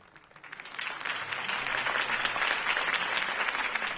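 Crowd applause swelling after a political campaign speech in a Batman game, many hands clapping densely and steadily, rising from quiet to a full, sustained roar of clapping.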